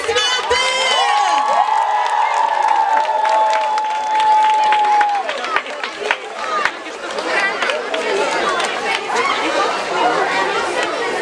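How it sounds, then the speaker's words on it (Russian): A lively crowd at an outdoor celebration cheers, shouts and claps, with children's voices, a long whistling tone early on and chatter mixed into a loud, busy, continuous din. "Еще аплодисменты!"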